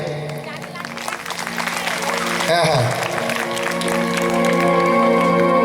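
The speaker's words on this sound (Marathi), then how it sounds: "गाणं बोलण्याच्या आधी टाळ्या आल्या" Applause from an audience at a live stage performance before a song begins, heard as continuous clapping and crowd noise while a voice laughs and talks over it.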